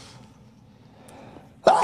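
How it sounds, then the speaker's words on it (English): A single sharp sneeze from seasonal allergies bursts out loudly at the very end, after a stretch of quiet room noise. "I just threw out the first sneeze of seasonal allergies."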